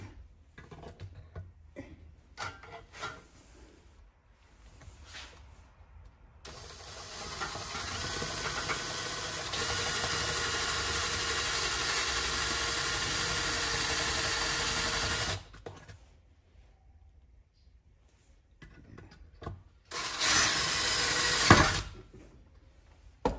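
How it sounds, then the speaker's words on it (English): A power drill whines steadily for several seconds while drilling out a hole in a Predator 212cc engine, stops, then runs again in a shorter burst, with a high-pitched hiss throughout. "So we're going to drill that out then."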